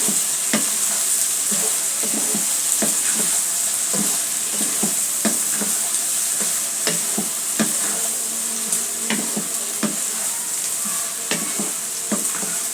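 Bitter gourd fried with egg in a pan sizzles continuously while a spatula stirs and scrapes in frequent irregular taps, close and steady, with no talk.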